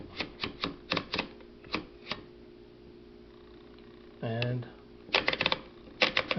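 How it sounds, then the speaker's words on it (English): A manual typewriter sounds out a run of sharp, uneven key strikes, a ratcheting carriage or line-feed sweep in the middle, then more rapid clacks, close and clear, with a brief spoken word. "Make lines and boxes on the typewriter."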